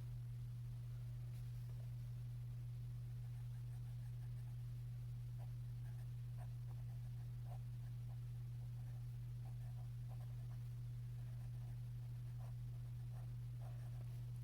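A Platinum 3776 fountain pen with a medium nib writing on paper, faint scratchy strokes of mild feedback repeating in short bursts over a steady low electrical hum.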